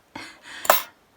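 A pot is handled at a crafting table while Christmas cards are made: two quick, close clinks and clatters of the pot being set down and moved, with no talking.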